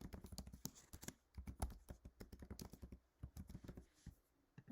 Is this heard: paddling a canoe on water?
no